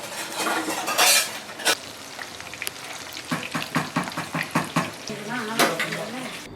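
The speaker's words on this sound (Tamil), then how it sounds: "கடாயில் வந்து எண்ணெய் ஊற்றி நம்ம ஃப்ரிட்ஜிலேருந்து எடுத்துருந்த அந்த சிக்கன் மசாலா தடவை சிக்கன் எல்லாத்தையும் பொரிக்க ஸ்டார்ட் பண்ணியாச்சுங்க." Masala-coated chicken fries in oil in a kadai, a steady hiss of sizzling broken by sharp clinks and scrapes of a utensil stirring against the pan, close and fairly quiet.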